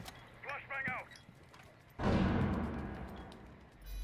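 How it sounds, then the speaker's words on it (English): Flashbang grenade going off in Rainbow Six Siege during a bomb-defuse round: a sudden loud, broadband blast lands midway and rings out in a long decaying wash, after brief voices over game noise. "Flash bang out!"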